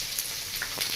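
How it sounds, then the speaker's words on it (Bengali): Fish roe fries in a pan with salt, making a soft, even crackle and sizzle with a few small pops, fairly quiet and close, with no voices. "ভালো করে একটু ভেজে নিয়ে যাবো।"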